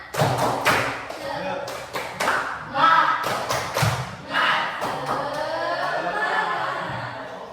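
Schoolchildren in a classroom perform a rhythmic spirit clap, sharp group claps and thumps in quick patterned bursts, mixed with a chanting voice and scattered chuckles.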